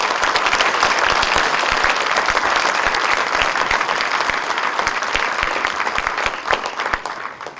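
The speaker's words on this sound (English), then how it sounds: "give him another rousing applause" Rousing audience applause fills a lecture hall after a speech by Dr. Subramanian Swamy in Houston, a dense, steady wash of many hands clapping at full strength, thinning slightly near the end.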